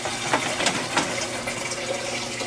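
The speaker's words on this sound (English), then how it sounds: "This, just put in your sink. Run water in there." Tap water running into a pan of hot sugar left in a kitchen sink, a steady close rush with spattering bursts and sizzling hiss throughout.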